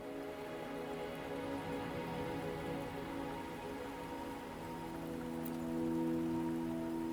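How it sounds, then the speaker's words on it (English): Rain falls steadily in the Wuthering Waves video game, a soft, even patter that holds at moderate level throughout, layered with sustained tonal music, with no voices. "Are you trapped here by the rain?"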